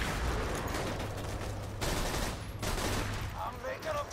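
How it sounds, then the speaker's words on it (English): Heavy sustained automatic cannon fire from the Borderlands 2 video game, a dense continuous barrage of rapid shots close and loud, with a brief lull and game sound effects near the end. "Oh boy, those auto cannons."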